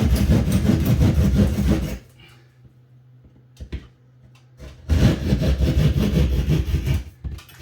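Saw cutting through sheetrock during recessed lighting installation, with two loud bursts of rough, scratchy rasping strokes separated by a quiet pause in which a faint low hum and a couple of small knocks are heard, close up.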